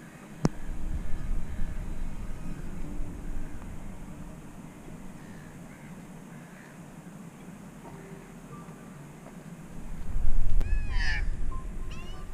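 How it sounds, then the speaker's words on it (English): Two magpies, an adult and a noisier young one, call near a walking path at Balls Head. Their harsh calls and warbles come near the end over a low outdoor background rumble. "these two magpies, the smaller one is the baby one, it's noisier"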